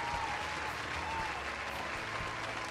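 A crowd cheers and applauds at a park, a continuous, even wash of clapping with faint voices mixed in, heard at moderate distance throughout.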